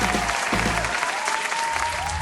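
A studio audience at a Pakistani TV game show breaks into applause, a loud, full burst of clapping lasting a couple of seconds.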